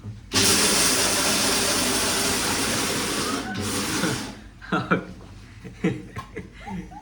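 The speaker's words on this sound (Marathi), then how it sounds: "मिक्सर चालवणार" A kitchen mixer grinder whirs loudly and steadily for about four seconds in a Marathi family home, then cuts off, leaving scattered voices and laughter.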